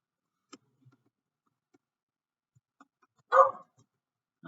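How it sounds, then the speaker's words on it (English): A few sharp dog barks in a quiet home, one louder burst near the end of the stretch and softer single yips before it, with no talking. "I'm so sorry if you can hear my dogs."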